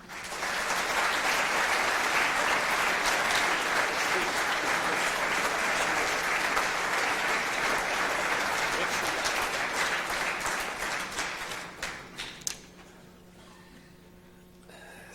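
Audience applause in a lecture hall after a civil engineering lecture on large bridges, long loud sustained clapping from a big crowd that thins into scattered claps near the end before the room goes quiet.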